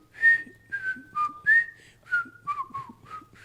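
Someone whistles a melody, a series of clear sliding notes in short phrases, close and alone with no talking.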